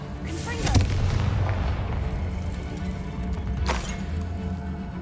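A Confringo blasting spell goes off in the game Hogwarts Legacy inside a dark tunnel, giving a booming burst that is followed by a second blast a few seconds later over a continuous low rumble of ambience.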